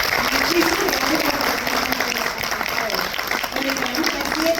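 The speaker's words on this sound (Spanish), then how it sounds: "pido un aplauso para mis panelistas" Audience at an international liquefied natural gas forum applauds its conference panelists, a continuous wash of clapping at moderate loudness, with voices audible through it.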